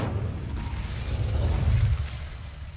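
Incendio fire spell cast in Hogwarts Legacy, a heavy whooshing burst of flame with low rumbling roar that swells and then fades over about two seconds, loud and without voices.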